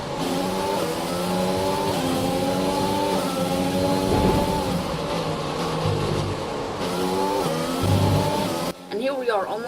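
Race car engine from the F1 2020 video game during a race, a continuous high whine with rising and falling gear pitches, steady and prominent throughout before cutting off near the end.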